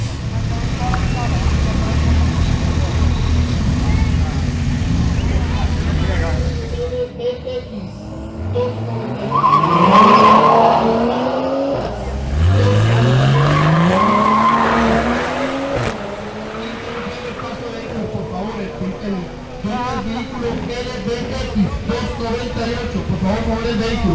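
A Honda Civic and a BMW M240i xDrive launch side by side in a drag race. Loud engine roar and squealing tires rise in pitch as the cars accelerate, an announcer talks over the noise, and the engines fade into crowd ambience.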